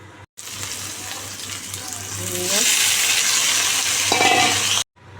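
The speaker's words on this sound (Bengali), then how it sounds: "ক্যাপসিকাম আর তোমার কুমড়ো একটু ভাজবো এই শুকনো লঙ্কা কালো জিরে ফোড়ন দিয়েছি" Capsicum and pumpkin hit hot oil tempered with dried red chilli and nigella seeds, and a loud, close sizzle swells midway and holds steady before cutting off abruptly.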